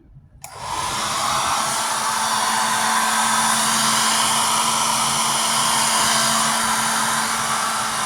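A hair dryer switches on after a brief moment and runs continuously, drying hair with a loud, steady, close whooshing roar and a constant motor hum until the end, with no talking.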